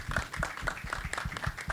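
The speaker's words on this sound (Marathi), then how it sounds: "तर जोरदार टाळ्या" Loud applause from an audience at a film trailer launch, with dense rapid clapping that holds steady across the whole short stretch and no voices over it.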